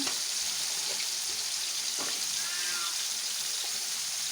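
Food sizzles and fries in pans on two stove burners, a steady close hiss with faint clinks and stirring taps over it.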